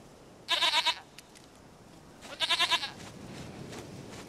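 A goat in The Witcher 3 gives two loud, quavering bleats about two seconds apart, each a rapid series of pulses, over a soft ambient game backdrop with no talking.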